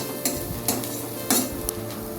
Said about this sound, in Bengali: তারপর দিলাম পেঁয়াজ কুচি, লঙ্কা কুচি, এটা একটুখানি ভেজে নিতে হবে